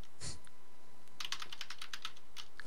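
Computer keyboard typing during co-op play of Portal 2: one quick keystroke, then after a pause a rapid run of about a dozen crisp clicks, close and clear with no talk.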